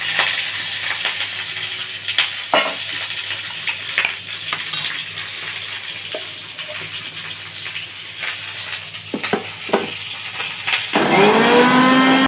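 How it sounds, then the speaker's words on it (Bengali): Pointed gourd (potol) fries in a pan with a continuous close hiss and sizzle, broken by occasional sharp stirring knocks, and a brief voice comes in near the end. "এই যে আমার পটলটা ভাজা হয়ে গেছে, আমি এবার নামাচ্ছি"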